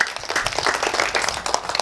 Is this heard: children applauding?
yes